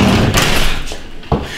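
A door pushed shut with a few dull knocks and a final sharp thud near the end, close and loud, with no talking.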